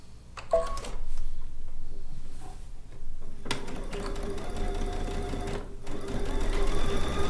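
A sewing machine stitches quilt fabric in a home sewing studio, starting in short bursts and then running in a steady, close mechanical whir with brief pauses, and no one speaks.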